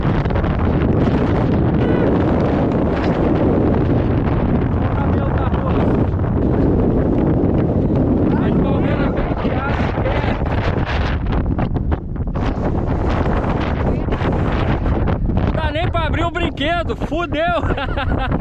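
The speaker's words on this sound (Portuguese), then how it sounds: "Olha o vento!" Strong wind roars loudly and continuously against the microphone at a speed flying launch site, buffeting without pause, with a person talking over it.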